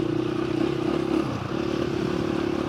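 A dirt bike rides Arizona backcountry trails, its engine humming at a steady, close, fairly loud drone. Light clatter from the rough ground comes through, with a brief dip in the middle.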